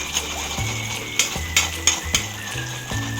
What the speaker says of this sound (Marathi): अंडं चांगलं फेटून घेतले